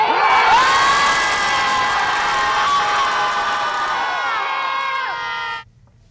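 A crowd of people screaming together at the Chicago Scream Club, a loud, sustained wall of shrieks and whoops that holds for several seconds before cutting off abruptly.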